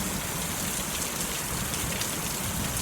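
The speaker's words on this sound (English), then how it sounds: "I'm watching the rain." Rain falls steadily outdoors beside a house with missing gutters, a dense, even hiss of drops with no break, heard close and moderately loud.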